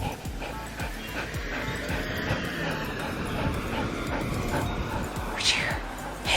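A dog whimpers and yips softly near the microphone while a person talks over it and outdoor background noise runs underneath.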